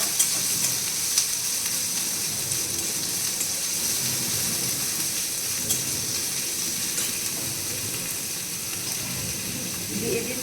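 Green chillies, curry leaves and onion sizzle steadily in hot oil for sooji upma, with an even, close frying hiss and occasional stirring scrapes throughout.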